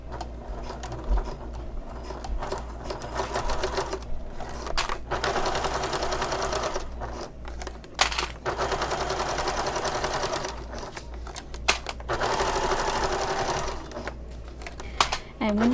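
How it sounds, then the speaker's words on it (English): Sewing machine stitching a bag seam runs in close, loud stretches of rapid mechanical whirring, stopping and restarting several times with brief clicks between runs, and a person talks over it. "we're going to start sewing with a 3/8 of an inch seam allowance."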